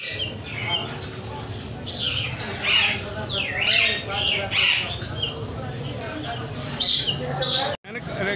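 Budgerigar parrots squawk and chirp at a Sunday bird market in Karachi, with sharp, repeated calls from several birds close by, mixed with market chatter and a person talking.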